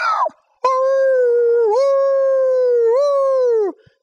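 A voice imitates a dog howling with a long, drawn-out, wavering howl of about three seconds that dips and rises in pitch, preceded by a brief vocal yelp, loud and close.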